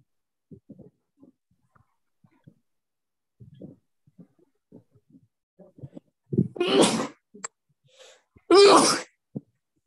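Two loud, explosive sneezes burst out close by near the end, preceded by quiet scattered sounds and faint murmurs in the background.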